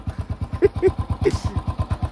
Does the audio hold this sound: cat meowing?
no